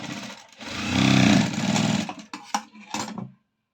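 A sewing machine stitches a cross-cut blouse with a close, whirring run of rapid needle clatter that speeds up and slows, then breaks into a few short bursts before stopping.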